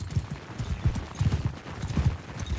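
Horses gallop across a battlefield in the Mount and Blade Bannerlord video game, a steady rhythmic clip-clop of hooves thudding close and loud, with no talking.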